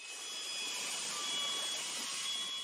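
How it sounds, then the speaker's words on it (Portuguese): A smoke alarm set off by dust from cutting walls under a staircase sounds a continuous shrill tone over a steady hiss of background noise for the whole stretch. "nós disparamos o alarme de fumaça"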